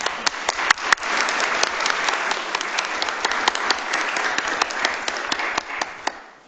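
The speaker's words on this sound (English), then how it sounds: "So huge round of applause to Haiti." Audience at a law school student panel applauding the organiser, starting with a few separate claps and quickly swelling into sustained, even clapping that holds at moderate volume before tapering at the end.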